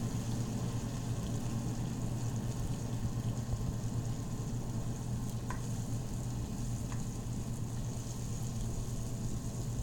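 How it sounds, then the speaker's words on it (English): Tomato pieces sizzle in a pan under a low, even hiss, with a couple of faint utensil taps while they are stirred; a steady low hum sits beneath. "Adding the tomato pieces in it, giving it a mix,"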